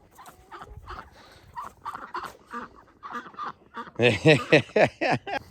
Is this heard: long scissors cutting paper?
no